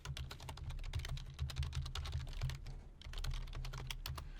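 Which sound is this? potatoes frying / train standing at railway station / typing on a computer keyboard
typing on a computer keyboard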